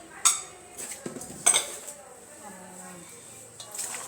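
A metal spoon clinks and scrapes against a pot while spices are mixed for pani puri, a few sharp taps and stirring strokes close up, with faint speech nearby.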